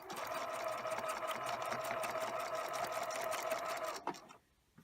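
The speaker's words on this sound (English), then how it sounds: "I am going to back stitch." A sewing machine back stitches a cloth bag, a rapid, steady, close mechanical whir that runs for about four seconds before stopping abruptly.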